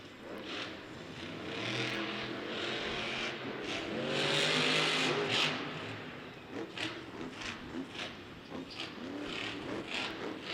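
Monster trucks race through the lanes of a Detroit football stadium, engines revving and roaring at a distance under crowd-filled arena ambience, swelling mid-way and then breaking into choppier bursts.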